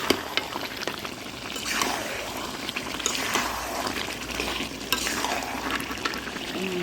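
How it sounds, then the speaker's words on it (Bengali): Hot water pours into a pot of cooking country-rooster chicken curry, a steady close wash of splashing and sizzling with stirring, and no talk. "আরও গরম পানি দিয়ে দিলাম গরম পানি"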